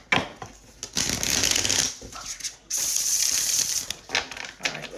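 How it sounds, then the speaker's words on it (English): Divination cards shuffled by hand close up, loud riffling bursts with short pauses and soft tapping between them over a few seconds. "one last shuffle here"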